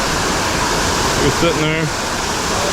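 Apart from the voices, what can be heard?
waterfall on a creek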